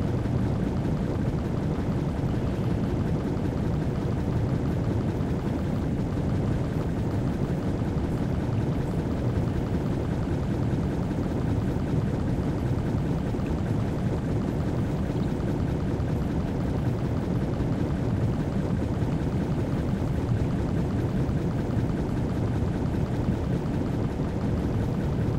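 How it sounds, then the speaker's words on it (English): Underwater swimming in Metal Gear Solid 3, a steady muffled wash of low rushing water that holds evenly the whole time with no voices. "we're going to be swimming under the water"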